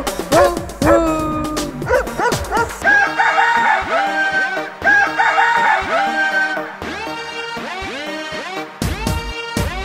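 Cartoon animal calls in a Hindi children's rhyme, with a barking dog among rooster-like crows and clucks, arrive as loud, tonal, sharply repeated cries over bright musical backing.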